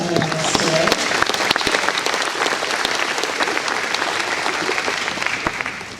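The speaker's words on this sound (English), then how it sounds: "if we could give him a round of applause for joining us today" An audience at a luncheon gives a sustained round of applause, many hands clapping in a dense steady roar that fills the room, with a voice briefly audible over it near the start.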